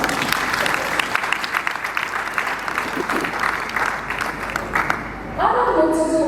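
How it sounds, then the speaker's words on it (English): An audience at a memorial anniversary ceremony claps in a steady, dense round of applause that swells louder toward the end, heard fairly close with some voices mixed in. "Please let's give a round of applause."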